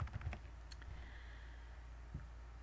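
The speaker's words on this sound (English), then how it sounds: "I'm just typing in a description here." Keys clatter on a computer keyboard as a task description is entered, a quick burst of close, faint clicks at the start, then a pause and a couple of isolated taps.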